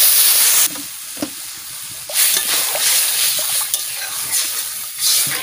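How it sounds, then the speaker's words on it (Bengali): Water hits a hot pan of mango pieces fried with turmeric and salt, bursting into a loud sizzle that drops to a softer, crackling bubbling hiss with brief flare-ups as it settles. "আম ভাজা হয়ে গেছে, এবারে আমি জল ঢেলে দিচ্ছি।"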